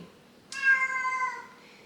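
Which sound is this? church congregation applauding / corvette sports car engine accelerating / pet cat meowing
pet cat meowing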